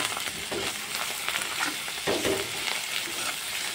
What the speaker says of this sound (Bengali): এবার এই সব দিয়ে আমি সুন্দর করে একটু নাড়াচাড়া করে নেব।